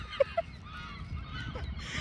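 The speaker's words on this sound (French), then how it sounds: "Et des cris de mouettes" Two short, sharp seagull cries ring out close together near the start, then give way to a faint, rumbling outdoor background.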